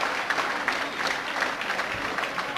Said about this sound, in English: Comes off to a deserved round of applause, and Jason Rowbottom will come on.